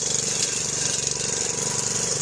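A DR 26 Premier brush mower runs steadily in the field, its engine holding a constant, loud drone with a faint rattle and no breaks or pauses.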